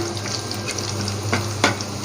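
Two or three cloves of finely minced garlic fry in a pan until lightly browned, with a steady close sizzle and scraping stir strokes, and no voices.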